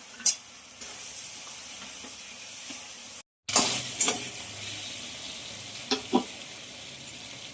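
A fried katla fish head goes into ground spices frying in a pan, and the steady sizzle cuts out briefly, then returns louder with a few sharp spits and clatters.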